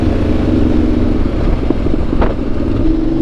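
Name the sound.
motorcycle engine, European bike, Ducati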